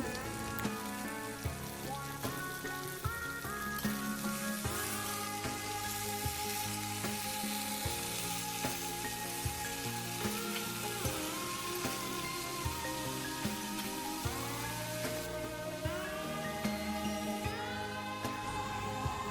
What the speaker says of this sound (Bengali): ঝিঙেগুলো সুন্দর করে আস্তে আস্তে ভেজে নেব।